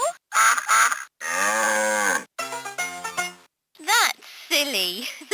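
LeapFrog Fridge Farm toy, UK version, playing a cow moo and duck quacks, short loud electronic animal calls with gaps between them.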